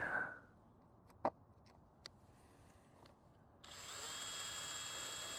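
A power drill drives screws on an Airstream trailer: faint ticks and clicks first, then a steady whirring run starting late, close but fairly quiet.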